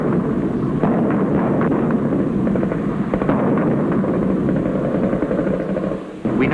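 Artillery fire during a 1971 military exercise, a dense continuous rumble of distant booms blending into one loud roar that drops away briefly near the end.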